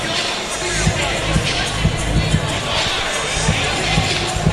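A sold-out hometown crowd roars at a Cage Titans MMA fight as a fighter makes his entrance, a dense, steady wall of cheering and babble with scattered thumps and claps underneath.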